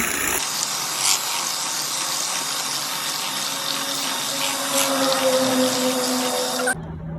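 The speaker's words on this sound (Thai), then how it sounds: "ตีของเขาก็แรงใช้ได้นะคะ ตีให้ส่วนผสมเข้ากันนะคะ" A Netmego electric egg beater whirs steadily through batter, a loud, continuous motor hum with a wet, churning wash that holds evenly for several seconds before cutting off abruptly near the end.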